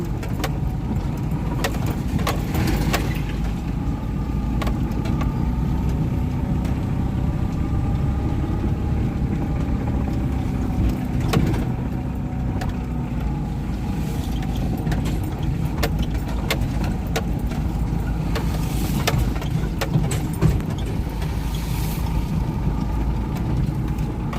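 A car engine drones steadily while the vehicle is driven one-handed down a road, a constant low rumble with road noise close and even throughout, and a few faint rattles on top.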